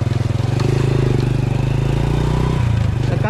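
A twelve-year-old Honda 100 motorbike runs nearby with a loud, even low-pitched thrum that stays constant, then its tone shifts briefly as the engine note changes near the end.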